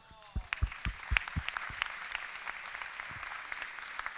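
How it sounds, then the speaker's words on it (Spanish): An audience at a round-table gathering of veteran climbers of Picu Urriellu breaks into applause, starting with a few sharp, close claps that spread into steady, moderately loud clapping from a crowd. "Y un aplauso para todas las especialidades"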